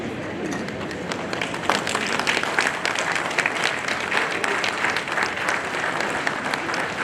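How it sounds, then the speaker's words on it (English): A large audience at a dairy products launch claps loudly and steadily for several seconds, a dense, continuous wash of applause with no talk over it. "A big round of applause, guys, please."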